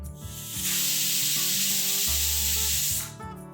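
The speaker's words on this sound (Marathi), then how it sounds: "आणि ह्याला आपण आता 3-4 शिट्या काढून घेऊ." Pressure cooker whistling as it releases steam while cooking chicken soup, a loud close hiss lasting about two and a half seconds over a low background hum, then cutting off.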